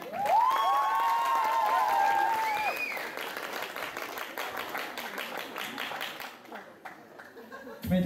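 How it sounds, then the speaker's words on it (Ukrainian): Warm audience applause at a university beauty pageant after contestants are introduced, dense clapping strongest at the start and gradually thinning, with voices and a few musical tones mixed in. "Вертливими оплесками це все підтримуємо."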